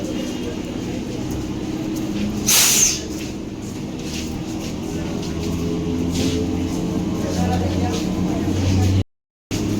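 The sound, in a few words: train departing from platform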